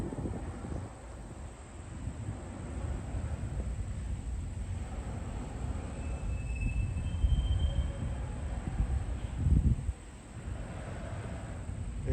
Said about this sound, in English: this double stack there with containers.